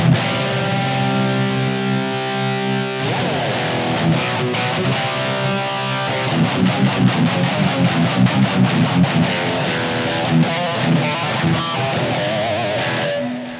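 Electric guitar through a Maxon OD808X overdrive pedal in front of the amp plays sustained distorted heavy metal chords, then shifts to choppy, rhythmic palm-muted strumming before ringing out again.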